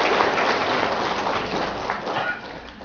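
Dense, continuous applause from a crowd, many hands clapping at once, loud and steady before tapering slightly.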